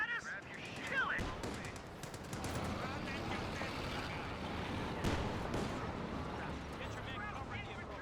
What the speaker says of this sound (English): Is that thing firing at us? Kill it!